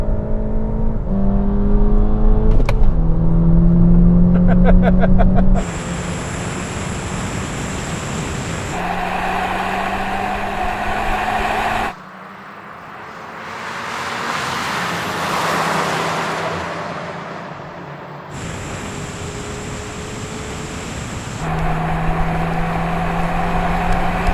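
A Mark 5 VW Golf GTI launching and accelerating hard in a race, engine rising through gears with rising whine and shift breaks, a quieter whooshing stretch mid-way, then pulling hard again, loud and close.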